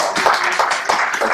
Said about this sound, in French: Je pense qu'on peut applaudir monsieur le maire.